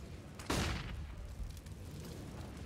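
A grenade bursts loudly in CS:GO during a professional match between Heroic and Virtus.pro, with one sharp blast followed by a decaying rumble and a low background bed of game noise.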